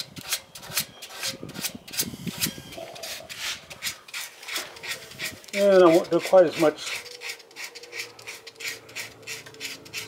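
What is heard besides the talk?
sanding wood by hand with sandpaper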